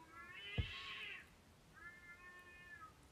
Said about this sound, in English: Did you hear that screaming cat outside?